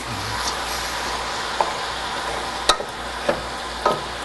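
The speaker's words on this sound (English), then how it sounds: "we're going to brown this down. Just keep on stirring it occasionally" Ground meat browning in a pan on a stove, a steady low sizzle broken by a few sharp scraping knocks of a utensil stirring and clattering against the pan.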